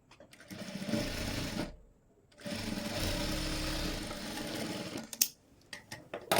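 A sewing machine runs a straight stitch along a blouse seam in two steady, close, whirring bursts separated by a short pause, ending with a few clicks and handling noises.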